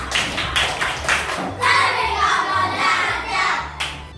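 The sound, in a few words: clapping hands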